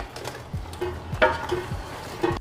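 Chicken with spices is stirred and fried in a pot for korma, a spoon scraping rhythmically against the metal under a quiet, steady sizzle.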